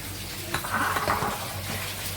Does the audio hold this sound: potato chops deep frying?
yes